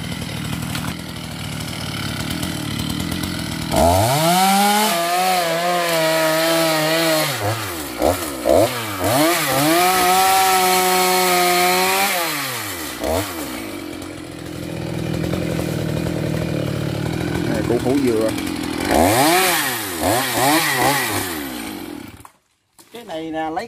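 Close, loud chainsaw revving and bogging down repeatedly as it cuts through a coconut palm stump, with quieter idling stretches between bursts and a sudden stop at the end.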